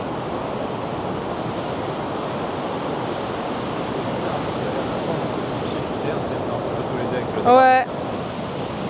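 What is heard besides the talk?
ocean waves on the beach, Magnetic Island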